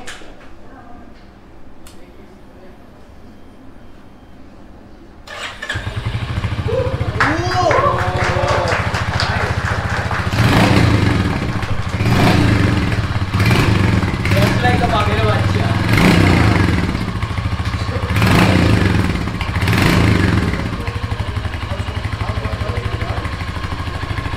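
After a quiet start, a 2025 Royal Enfield Hunter 350 motorcycle starts at a launch event and settles into a loud, steady running engine, with repeated throttle surges under crowd chatter and children's voices.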